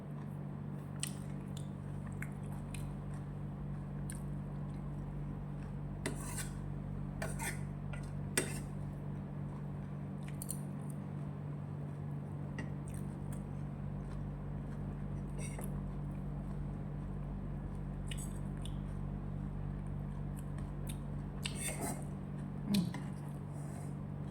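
Someone eats Thai khao yam rice salad with budu sauce, with soft close chewing, squishy bites and occasional clinks of a spoon against a dish over a steady low hum, with scattered quiet mouth sounds throughout.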